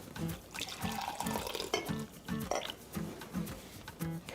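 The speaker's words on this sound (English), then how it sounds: "And then when I go to serve it up, I pour it into a cup." Hot turmeric ginger tea pours into a cup in a continuous liquid trickle with small splashes and gurgles, close up, fairly quiet and with no voices.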